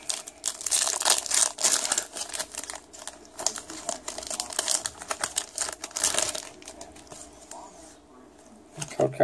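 Foil from a Pokemon card pack crinkles and crackles in close, irregular bursts as the wrapper is handled, with a voice speaking over the rustling.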